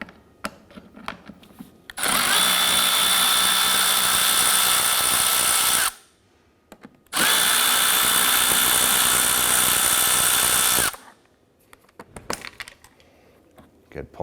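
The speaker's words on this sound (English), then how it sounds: "use a Phillips head screwdriver to go ahead and remove the two bolts securing the fog light" A Honda Pilot fog light bolt is driven out with a power driver and 8mm socket: two loud, steady whirring bursts of about four seconds each, separated by a short pause, with faint clicks and handling noise before and after.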